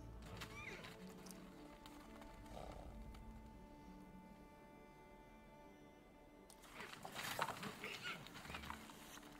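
Yakutian horses whinny and neigh, with hoof clip-clops and a loud burst of animal calls near the end over a low outdoor rumble.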